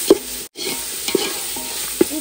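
A spoon stirs masala through quail biryani in a pan, soft scraping strokes over a faint sizzle, with a few distinct clinks, close and alone.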